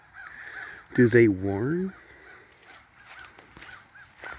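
A few crows caw outdoors on wooded land while someone speaks a short phrase, with his voice prominent in the middle and the harsh calls continuing lightly around it.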